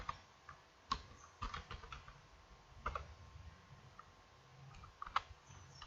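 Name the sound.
typing on a computer keyboard in Excel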